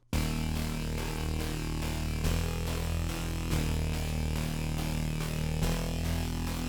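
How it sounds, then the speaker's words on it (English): A dense, heavily distorted low bass line grinds through a slow melody, gritty and loud throughout, with a few accented note changes and no talking. "we just put it into a bass in a lower octave, and it sounds like this."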